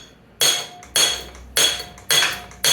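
A bigger hammer strikes a 1975 Honda Z50A engine top end to loosen it, five sharp metallic blows in a steady rhythm, close and clear with short ringing tails between hits.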